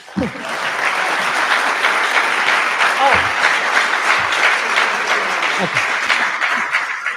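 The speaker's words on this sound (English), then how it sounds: "the chorus of shouts and applause from this Belisario crowd as we cheer you on" A large celebratory crowd at a university dean's event bursts into loud, sustained applause with cheers and shouts scattered through it, steady and close for the whole stretch.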